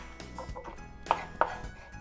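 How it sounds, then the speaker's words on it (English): A knife dicing onions on a cutting board for a Wagyu ribeye Philly cheesesteak, a few soft close chops in an irregular rhythm with two sharper knocks on the board, no talk. "So for the onions, all I'm going to do is dice them."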